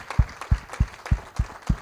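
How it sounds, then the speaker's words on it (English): Audience applause for a graduating class of auctioneering students, heard as a steady run of claps with a regular beat, close and moderately loud, with no voices over it. "How about a round of applause for them?"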